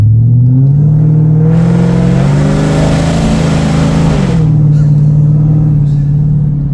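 The supercharged engine of a four-door SVT Cobra revs up hard from outside the car, climbing into a loud, sustained roar that holds at high revs and then eases slightly, with no talking.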